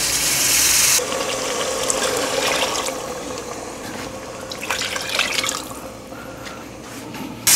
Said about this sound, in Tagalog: Then, pwede na natin siyang lagyan ng tubig.